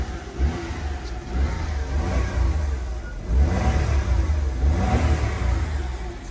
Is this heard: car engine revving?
yes